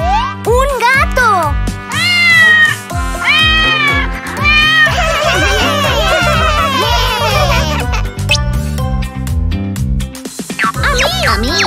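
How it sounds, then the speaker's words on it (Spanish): Cartoon cat meowing in a lively children's toy-egg surprise scene, several bright, pitch-bending meows close up and loud amid playful music and energetic character voices. "¡Un gato!"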